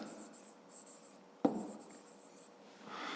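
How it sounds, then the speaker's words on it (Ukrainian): Pen or pencil scratches across paper during a fifth-grade math exercise, with soft continuous scribbling strokes, one sharp tap midway, and quiet room tone. "Пишемо, отже, вираз"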